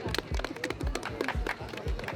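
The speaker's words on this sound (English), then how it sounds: "So let's clap" Audience at a Nigerian Independence celebration in London, Ontario applauding a speaker, a rhythmic run of fairly close claps with crowd noise and some voices mixed in.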